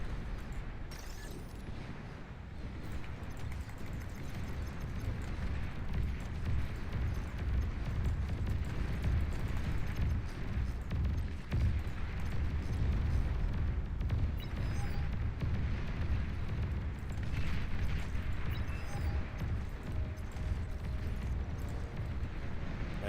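A huge explosion as an enemy commander is destroyed in the real-time strategy game Beyond All Reason, a long, heavy rumbling boom with deep low-end roll that sustains for many seconds, plus scattered crackles and a brief electronic chirp on top.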